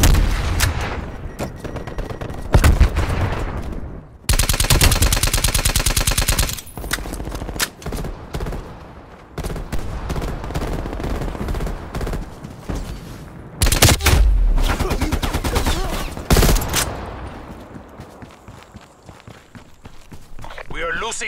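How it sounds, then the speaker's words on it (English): Sniper rifle fire in a Call of Duty team deathmatch, loud shots and sustained bursts of gunfire alternating with quieter stretches, with footsteps and voices mixed throughout. "Hostile snipers working."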